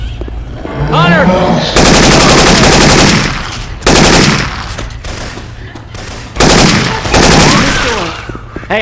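Rapid bursts of Syphon Filter weapon gunfire in Left 4 Dead 2, several loud sustained automatic volleys separated by short pauses, with a little game chatter between them.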